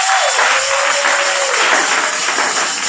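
A church congregation applauds and cheers in praise during a worship service, a dense, steady wash of clapping and crowd noise that fills the space without a break.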